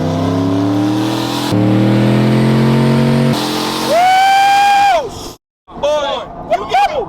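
A squatted pickup truck without traction bars accelerates hard, its loud engine climbing in pitch through several gear changes before a final high rev cuts off, followed by excited voices and gasps.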